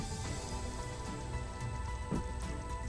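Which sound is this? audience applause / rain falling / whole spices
rain falling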